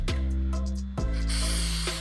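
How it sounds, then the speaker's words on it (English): White lithium grease sprays from an aerosol can onto a 2001 BMW 330xi A-arm and ball joint, making a short, close hiss in a quick burst or two against a steady background hum. "what we're going to do is spray some white lithium in there"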